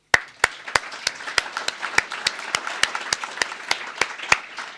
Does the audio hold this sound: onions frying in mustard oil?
no